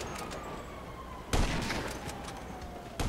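Video-game gunfire aimed at SWAT crackles in short bursts, a faint rattle early, then a sharp loud volley midway and another shot at the end.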